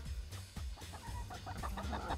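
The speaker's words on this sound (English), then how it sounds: "Chickens!" Garden chickens cluck and murmur softly at close range, with a few brief scratchy knocks early on and a busier run of clucking toward the end.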